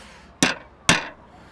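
A hammer strikes a metal punch driven through a plate twice, two sharp, loud, ringing blows about half a second apart that each decay quickly.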